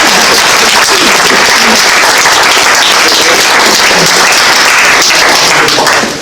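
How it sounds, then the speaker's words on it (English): Loud, dense applause from an audience fills the whole stretch, steady crowd clapping with scattered sharper claps that trail off slightly at the very end. "Can we give a round of applause?"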